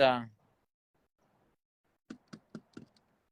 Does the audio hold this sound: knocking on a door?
yes